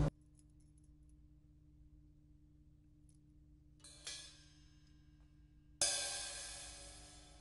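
House keys clipped on a carabiner hang from a drum cymbal stand and jangle faintly in a few light bursts, with a sharper metallic shimmer near the end ringing out over a quiet hum.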